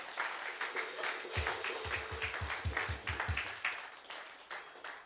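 A crowd applauds steadily while a few louder, rhythmic claps thump in the middle, then the clapping thins out and fades.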